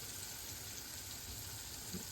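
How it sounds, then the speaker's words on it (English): Squirrel meat frying in oil in a pot, a low steady bubbling sizzle heard faintly and continuously in the background, with no talking. "while those squirrels are frying in this pot"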